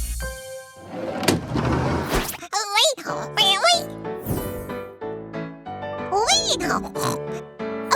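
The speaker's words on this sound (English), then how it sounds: "Now Baby Pig can play his fantastic farm song." A cartoon baby pig oinks in a children's farm show, the snorts voiced by a performer among bright musical tones and other childlike character voices, close and clear.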